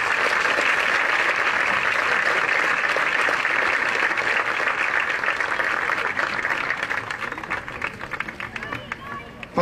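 Loud, dense applause from a large crowd at a sports event in Imola, a steady wall of clapping that fills the whole stretch and thins a little toward the end, with crowd noise mixed in.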